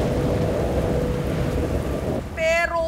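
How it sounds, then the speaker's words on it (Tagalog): Heavy rain pours down in a dense, steady wash near a boat crossing to a school, loud and continuous, then breaks off shortly before the end. "Ang kalbaryo na dagdagan pa nung bumuhos ang malakas na ulan."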